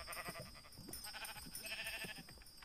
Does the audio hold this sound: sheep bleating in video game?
yes